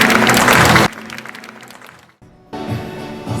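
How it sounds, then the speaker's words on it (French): Audience clapping at a graduation ceremony of a training institution, a loud burst of applause that drops away abruptly and then resumes at a lower level. "Applaudissez s'il vous plaît."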